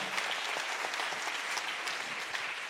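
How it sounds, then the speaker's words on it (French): An audience at a film festival opening night honoring Mohammad Rasoulof applauds to welcome the translator, a continuous, even spread of clapping from a crowd, moderately quiet and somewhat distant. "qu'on peut également accueillir et applaudir"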